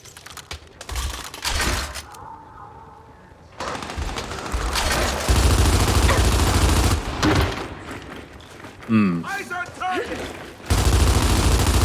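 Rapid bursts of Retro Lancer fire and active reload clicks in a Gears of War women's tournament match, loud, with several spaced volleys over a steady game mix and a sharp metallic flurry near the end.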